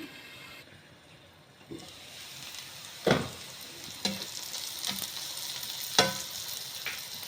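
Onions cook in a pan for a fish curry, giving a continuous low sizzle broken by several sharp scraping clacks of a spoon stirring against the pan.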